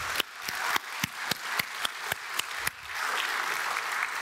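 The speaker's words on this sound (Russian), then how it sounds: "второй раз тоже очень громко аплодируем" Audience applause fills a conference closing ceremony hall, a dense, steady wash of many hands with a few louder sharp claps standing out near the front, continuing evenly throughout.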